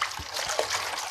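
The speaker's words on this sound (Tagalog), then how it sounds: "Lalagyan ko lang asin ng tubig" Salted water trickles and splashes onto vegetables in a home kitchen, a brief close liquid dribble with soft splatter.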